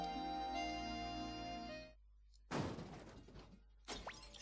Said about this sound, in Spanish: ¿Y cristales rotos?